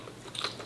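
Quick crunchy bite into braised pork tongue, a brief close-up snap of teeth through soft meat, faint and alone.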